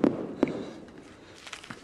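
Fireworks go off at a distance: a few sharp pops and crackles, the first two loudest, followed by scattered fainter bangs against a quiet background.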